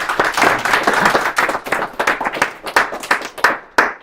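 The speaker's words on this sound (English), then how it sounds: "please welcome Sebastian with a warm applause" A conference audience claps for an incoming speaker at an AI forecasting event, dense overlapping handclaps that thin out toward the end, with a couple of last sharp isolated claps.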